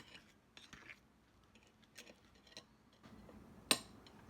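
Brownie batter of flour and cocoa mixed in a bowl for high-protein zucchini brownies, heard as faint, irregular clinks and scrapes of a utensil against the bowl, with one sharper knock near the end.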